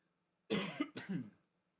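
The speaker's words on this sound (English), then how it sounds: "I'm about to cough." Two quick, close coughs in succession, fairly loud against a quiet background.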